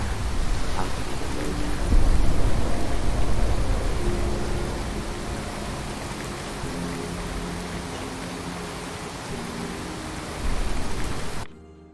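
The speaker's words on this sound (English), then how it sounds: "away from the very irradiated rain." Steady rain and rolling thunder in the Fallout 4 wasteland, a continuous broadband downpour with a heavier rumble early on and another swell near the end, heard alone without talk.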